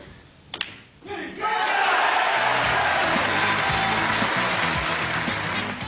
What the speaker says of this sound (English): Crowd here at the Crucible are going mad for Bradford's Joe Johnson